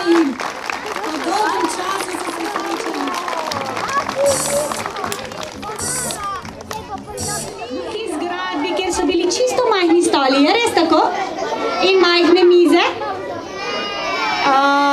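Schoolchildren clapping and cheering at a welcome ceremony for first graders at a primary school in Brežice, a dense burst of applause and lively kid voices filling the clip, with an adult voice speaking over the crowd.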